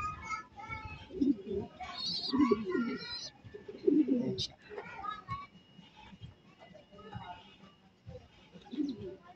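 Pigeon cooing from a blue bar racing pigeon with white feathers, just returned from a 60 km race to San Pablo, Laguna, heard as soft repeated coos amid chirps, with someone talking over them.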